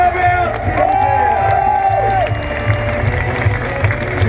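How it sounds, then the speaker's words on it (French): A large crowd at a Nitro Circus live show in Tours, 2016, roars and cheers steadily for a freestyle motocross rider's performance, a continuous loud wash of voices with shouts rising above it. "C'est maintenant que je veux vous entendre pour l'applaudir."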